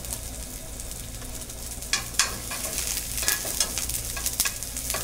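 Red pearl onions sauté in a hot pan, a steady soft sizzle with scraping spoon strokes and clicks as they are stirred, close up and without talk.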